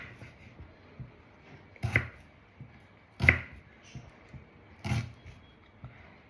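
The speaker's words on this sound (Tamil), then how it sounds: "இப்போ குட்டி குட்டி பீசஸாக சாப் பண்ணலாம்." A knife chops an onion into small pieces on a board during paneer sandwich prep, giving three sharp, separate thuds a second or so apart over faint kitchen background.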